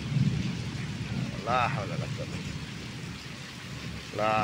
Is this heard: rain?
yes